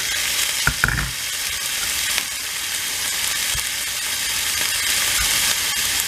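String beans (sitaw) stir-fried in a pan sizzle steadily and loudly up close, with a few clanks and scrapes of the utensil at intervals and no voices.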